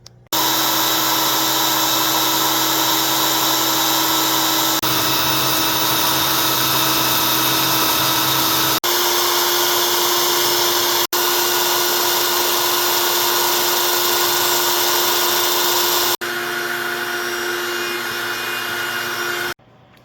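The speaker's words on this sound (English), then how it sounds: "I'll show you the CNC machine work" A CNC machine cuts exhaust brackets for a 1982 Yamaha Seca 400 cafe racer project, a loud continuous whine with steady tones that shift pitch in several abrupt segments before stopping.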